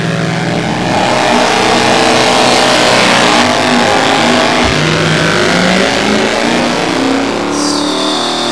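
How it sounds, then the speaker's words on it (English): A drag race car accelerates hard, its engine roaring loud and steady for several seconds with a sustained high-revving tone, no talking. "That car sound too good, boy."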